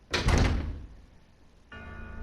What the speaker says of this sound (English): I went and hit the door instead.